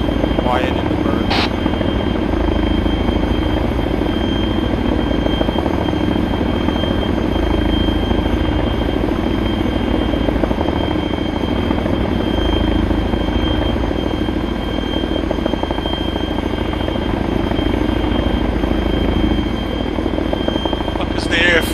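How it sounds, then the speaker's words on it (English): Military helicopter in ARMA 3 flying with a loud, steady rotor and engine drone that runs the whole time, with people talking over it. "We're in a helicopter."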